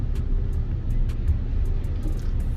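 A car drives steadily through a right-hand curve, giving a continuous low engine and road rumble from inside the cabin with faint ticking on top.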